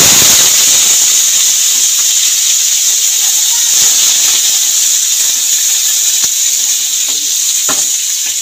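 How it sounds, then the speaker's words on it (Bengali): Chopped vegetables hit hot oil in a pan: potato, pumpkin, flat beans, ridge gourd and a little radish for a Bengali mourala fish chorchori. A loud, close, continuous sizzle and hiss follows, with faint stirring clicks. "সব সবজি একসাথে আমি ঢেলে দেবো।"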